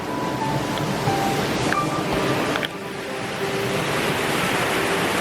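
A waterfall on a Greek road trip, a loud continuous roar of rushing water heard up close throughout, with slight shifts in the wash of noise and faint tonal hints in the background.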